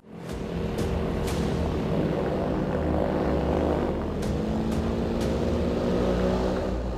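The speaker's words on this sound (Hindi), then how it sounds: "यही वो विनाशकारी ड्रोन है जिसे भारत अमेरिका से खरीदने की तैयारी में है" An MQ-1 Predator military drone flies with a loud, continuous propeller-engine drone that holds steady throughout, with a few brief clicks on top.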